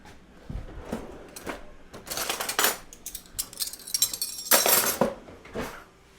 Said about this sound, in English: scrape the dough into the water 1 a spoonful at a time